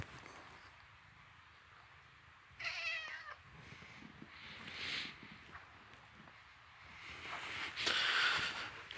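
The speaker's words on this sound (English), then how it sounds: "I swear I just heard a cat up on the hill." A cat meows up on a snowy hill outside, a few faint, distant calls spread across the stretch amid quiet outdoor ambience.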